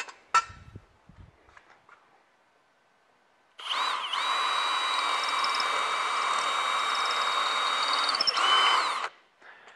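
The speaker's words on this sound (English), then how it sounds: "And then I'm going to drill some pilot holes." After a few clicks and handling noises, a power drill whirs steadily for about five seconds at close range, drilling pilot holes, then winds down.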